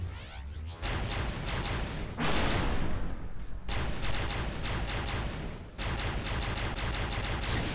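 Rapid energy-weapon gunfire in the video game Halo SPV3.3, a dense, continuous stream of high fire-rate shots with brief breaks, loud and filling the whole stretch.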